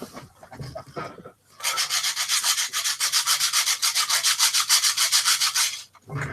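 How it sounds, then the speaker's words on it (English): Soft hand sanding with steady back-and-forth rubbing strokes, even and rhythmic at close range for several seconds, with quiet background sounds before it begins. "I'm just going to do some soft sanding"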